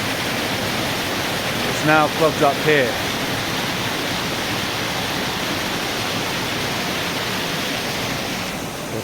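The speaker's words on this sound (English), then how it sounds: "So the water is absolutely gushing through here" Water gushes loudly through an old mill race, a constant roaring torrent close at hand, with someone speaking briefly over it.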